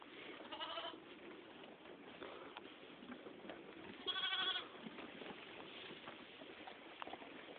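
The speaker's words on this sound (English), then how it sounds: "All lambs out there playing and stuff." Lambs bleat on a sheep farm, a couple of short distant calls rising over a soft, constant outdoor background.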